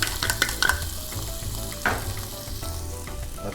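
Garlic sizzling in a hot pan, a bright crackling fry with quick spattering pops and a brief stirring scrape near the start, close and continuous throughout.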